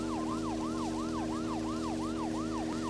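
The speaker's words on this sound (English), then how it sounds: "So it's back to the police siren." Police car siren in the video game Deadly Premonition, a steady wailing yelp rising and falling about nine times over a constant engine drone, loud and continuous.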